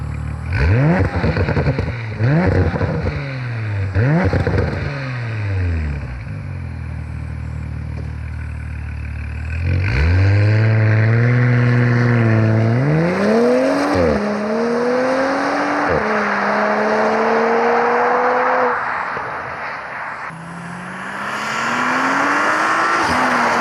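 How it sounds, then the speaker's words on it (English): A modified 2020 Porsche Macan S revs hard and takes off, its engine climbing through several gears with rising and falling pitch, loud and close, with brief dips between shifts and no talking. "take a listen to what this sounds like, and show you guys what an 11-second Macan looks like taking off"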